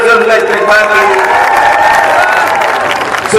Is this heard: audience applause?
yes